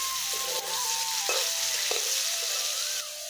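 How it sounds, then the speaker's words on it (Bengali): Potatoes frying in hot oil, with a steady continuous sizzle and occasional faint utensil clinks, close and fairly loud with no talking. "আমার আলুটা লাল লাল হয়ে এসেছে, পুরোপুরি ভাজা হয়ে গেছে"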